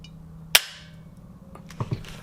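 A CZ Scorpion trigger, fitted with an HB Industries trigger, breaks cleanly with one sharp, close click, followed a moment later by two softer mechanical clicks as the reset is checked.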